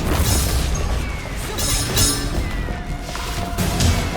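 Booming explosions in the video game Cyphers, repeated heavy blasts and crashes over a dense, busy mix of game effects, fairly loud throughout.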